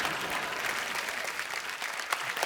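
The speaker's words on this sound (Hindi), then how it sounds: "एक बार जोरदार तालियां" Studio audience at a comedy talk show clapping, a thick continuous roar of many hands at moderate level with no voices over it.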